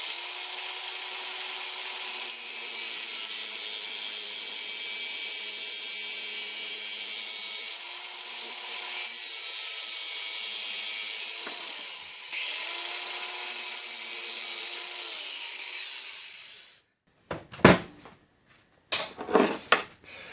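Handheld grinder cutting through rubber AN hose: a high, whining motor hum that holds steady for about sixteen seconds with slight pitch wavers as it bites, then stops, followed by a few clattering knocks and handling noises.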